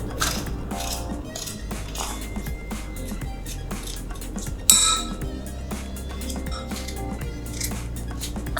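A spoon is used instead of a vegetable peeler to scrape skin off a vegetable, making soft close scraping and light scratching with a single sharp clink partway through, and no talk.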